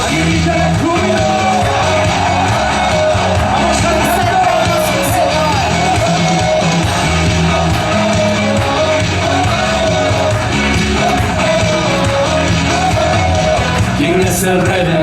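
A church congregation shouting with joy during a Sunday service, a sustained loud mass of voices, yells and music with no break.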